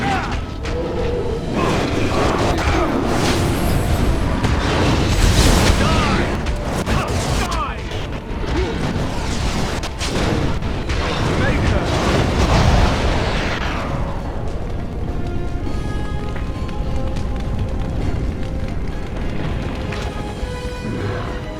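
Fire spell blasts erupt in the fantasy role-playing game Dragon Age: Origins, a dense run of bursts and booming explosions mixed with combat noise and game music, loud throughout, while a person talks over it.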